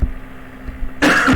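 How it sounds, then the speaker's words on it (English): A single harsh cough, close and loud, bursting in after a quiet stretch of room hum at the end. "Sorry, I'm having a cough."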